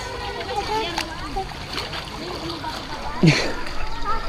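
Water splashes near the microphone as a child swims, with one sharper splash toward the end, while voices, including the child's, talk over it.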